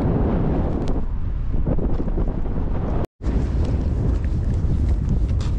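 Strong wind buffets a microphone outdoors in hot weather while sight fishing for sobaity bream, a steady loud roar that cuts out for a moment midway and then resumes.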